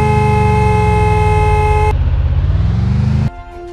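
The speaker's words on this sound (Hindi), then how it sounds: "अब चलो ये वाले गाड़ी को चलाते हैं और इसका हॉर्न सुनते हैं।" A loud, sustained car horn in the video game Free Fire blares steadily for about three seconds, its tone shifting partway through, then cuts off abruptly, leaving faint background noise.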